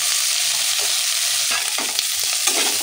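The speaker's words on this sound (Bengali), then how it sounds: "যা যা সবজি আছে সব এক এক করে ভেজে অন্য পাত্রে তুলে রাখতে হবে।" Steady loud frying of sukto vegetables in hot oil, a bright continuous crackle close by, with occasional scraping strokes of a spatula.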